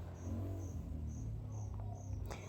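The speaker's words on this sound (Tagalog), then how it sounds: "Malakas ang boses ng kuliglig" Crickets chirp in short, evenly spaced high trills, clear but fairly faint, over a low hum heard from inside a house.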